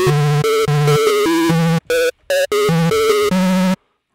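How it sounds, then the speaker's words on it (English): A Repro 5 synthesizer patch using only Oscillator A with light FM from Oscillator B and no filtering plays a quick sequence of buzzy, bright notes at varying pitches, with short gaps, ending abruptly. "all we have running audible is Oscillator A, and no filters or anything like that. We have some FM from Oscillator B a little bit"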